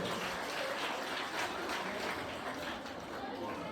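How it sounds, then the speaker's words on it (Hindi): Applause from a crowd at a girls' school retirement ceremony in Mandar, a fairly faint, continuous wash of clapping with some background murmur throughout. "तो जोरदार तालियां बजाएंगे।"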